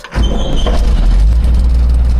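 A combine harvester engine fires almost instantly and runs at a loud, close, steady rumble.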